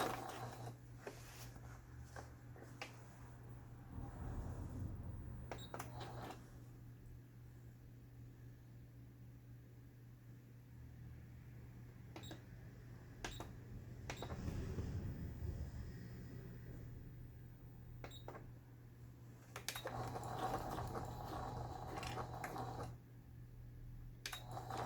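A Juki HZL-K85 domestic sewing machine stitching forward through fabric, a quiet steady mechanical whir with a low motor hum and occasional clicks, heard close and alone.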